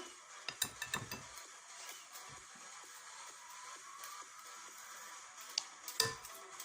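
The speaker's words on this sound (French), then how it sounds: "je suis en train de galérer avec mon fouet" Mango-speculoos tiramisu mixture being whisked in a bowl with some struggle; light metallic clinks and ticks come in small irregular clusters, quiet and close, with steadier whisking and a louder clatter near the end.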